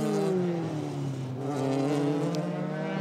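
A Euroformula Open race car screams past on the Spa-Francorchamps circuit, its high engine note sliding downward as it goes by, loud and continuous with no pause.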